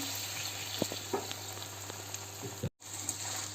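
Meat frying in olive oil for Iraqi jalfrezi, a continuous close sizzle with a few soft stirring knocks and a brief dropout near the end, no voices.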